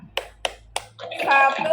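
Classroom group doing the Tepuk Pancasila clapping chant: three sharp, evenly spaced claps, then a louder flurry of clapping mixed with voices.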